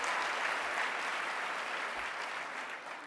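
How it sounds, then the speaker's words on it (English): Applause from a business hall of fame dinner audience, a dense, even wash of clapping that holds steady before easing slightly at the end, heard at a moderate distance. "you can certainly clap on that"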